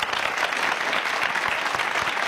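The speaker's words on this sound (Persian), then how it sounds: "آفرین تشویق بدی" A television comedy talk show's studio audience claps in dense, continuous applause, loud and steady throughout with no pauses.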